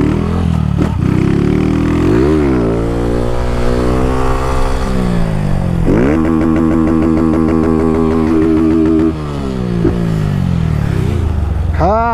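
A Honda CG Start 160 motorcycle with an aftermarket exhaust, low on fuel, idles loudly up close and revs repeatedly, its pitch climbing and falling in several surges.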